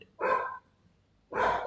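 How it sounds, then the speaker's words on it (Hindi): Two separate dog barks ring out at night with a pause between them, each a short broad burst at moderate distance, with no talk over them. "सॉरी कुत्ते वो भौंक रहे हैं"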